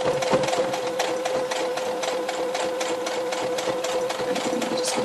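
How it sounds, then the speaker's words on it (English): A sewing machine back stitching a tea towel runs with a fast, steady mechanical whirr and rapid needle clatter, close and continuous, with no voices. "And then I'm just going to back stitch again."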